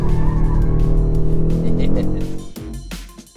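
A 2022 Audi RS 3 with a torque-splitting quattro system is driven hard on a racetrack, its loud close engine roar holding steady before abruptly cutting off, with a voice talking over it.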